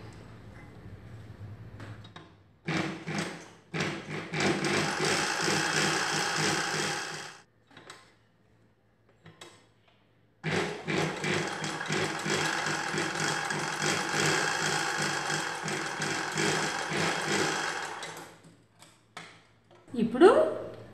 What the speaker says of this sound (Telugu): అలానే రెండో వైపున కూడా కుట్టు వేసుకోవాలి.